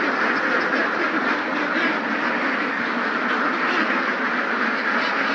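A large flock of about eight thousand ducks on a duck farm, a dense continuous wall of quacking that stays loud and steady throughout, with no talk.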